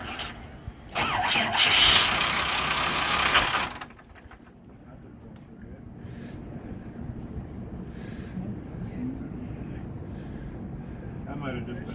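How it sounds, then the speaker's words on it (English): A lobster boat engine in a Maine harbor cranks loudly for a few seconds, then drops to a low, steady idle under wind noise and brief talk nearby. "we're just about to start this engine up here"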